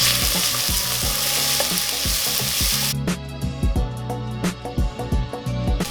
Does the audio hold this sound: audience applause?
no